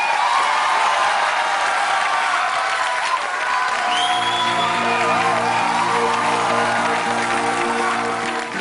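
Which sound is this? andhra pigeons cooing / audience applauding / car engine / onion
audience applauding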